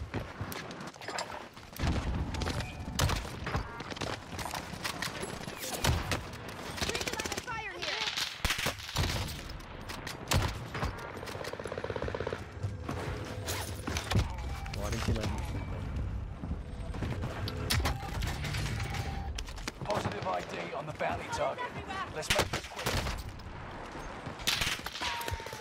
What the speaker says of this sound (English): I'm getting shot at by like three people right now.